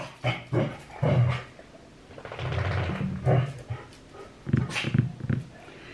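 Dogs bark and growl indoors in a home, several loud, rough bursts spread across the stretch with short pauses between them and no talking over them.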